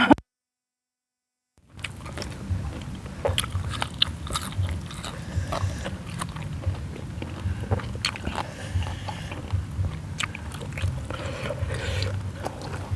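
Crispy fried pork skin bitten and chewed up close, a steady run of crunchy bites and chewing after a brief silent start, with no talking.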